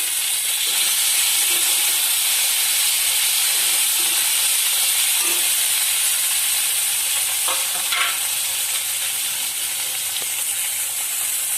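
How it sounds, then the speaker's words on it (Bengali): Ginger and chopped tomato fry in a pan for a pangas fish curry, a loud, even hiss and sizzle filling the whole stretch with a few soft stirring knocks, close up and without talk. "আদাটাকেও ভালোভাবে ভেজে নেব টমেটো কুচি দিয়ে দিলাম"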